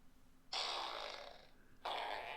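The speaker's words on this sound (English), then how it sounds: "We got a fart sound." A soundboard plays a fart sound effect, a long raspy blast followed by a second shorter burst after a brief gap, fairly faint and with no talking over it.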